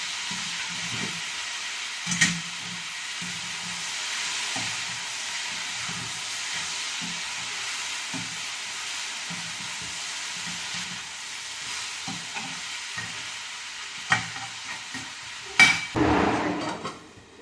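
Turmeric being stirred in a frying pan for a breakfast dish, a soft continuous sizzle broken by intermittent scraping and clinks of the utensil against the pan, with a louder knock near the end.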